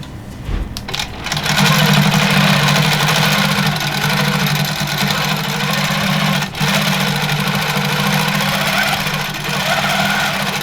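A longarm quilting sewing machine stitches a test run, starting after a few clicks and settling into a loud, steady, fast mechanical whir with one brief dip, and no voices over it.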